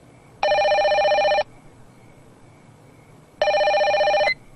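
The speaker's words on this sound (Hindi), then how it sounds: "टेलीफोन।" A telephone rings with two evenly spaced electronic bursts, each about a second long and loud, separated by a quiet pause.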